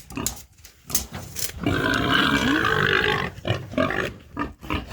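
A pig on a farm, being measured with a tape and weighed on scales, lets out a loud, sustained squeal lasting about two seconds, framed by shorter grunts and knocks close by.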